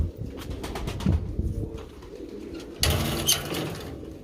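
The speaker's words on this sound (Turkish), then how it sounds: "Mesafeli ve taklalı kuşlar." Tumbler pigeons cooing nearby in low, throaty repeated calls over a steady outdoor background, with a louder burst toward the end and no talking.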